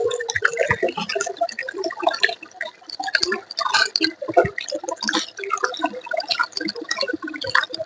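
Clean water is poured over washed straw being prepared for organic mushroom growing, giving irregular close splashing and dripping that runs steadily throughout, with no talking.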